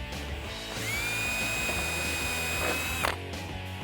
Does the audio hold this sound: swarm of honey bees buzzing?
no